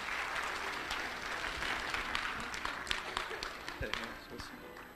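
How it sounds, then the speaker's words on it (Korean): Church revival meeting audience clapping to welcome a lecturer, a steady sustained round of applause filling a large hall from start to finish, fairly distant and even, with no clear speech over it. "우리 마지막 강의 또 힘차게 잘 하실 수 있도록 우리 김희진 가사님 박수로 축복하면서 맞이하겠습니다."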